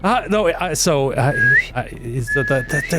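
A person whistles, mimicking bird calls, in close, loud warbling and sliding tones with a rising trill, while other voices talk underneath around a tabletop role-playing game.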